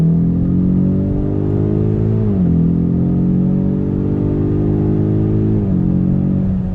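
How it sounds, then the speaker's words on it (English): A Ford Mustang EcoBoost HPP engine pulls hard on throttle, its loud steady exhaust drone climbing in pitch, dipping briefly at a gear change around two seconds in and again near the end before rising once more. "You're getting some pops, you're getting some bangs coming out of that exhaust"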